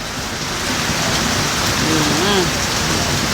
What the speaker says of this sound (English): so rain start here now, you know